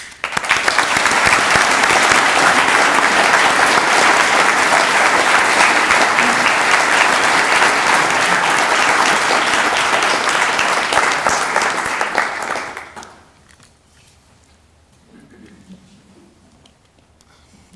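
An audience applauds warmly as a speaker is welcomed to an evening talk, steady loud clapping filling the room for about twelve seconds before it fades quickly into near quiet.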